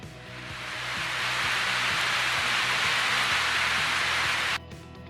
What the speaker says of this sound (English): So this is a rain sound